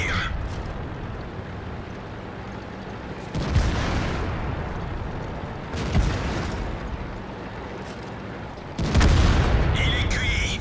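Tank cannon shots in World of Tanks, three heavy booms spaced a few seconds apart, each followed by a rumbling decay over a constant battlefield drone.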